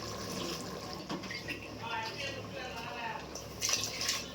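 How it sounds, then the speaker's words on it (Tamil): Water poured from a tumbler into a cooking pot while making mushroom biryani, a steady splashing trickle with brief louder gushes, heard close and carried under quiet background noise. "நம்ம எட்டு டம்ளர் வந்து தண்ணி ஊற்றி தண்ணி ஊற்றியாச்சு"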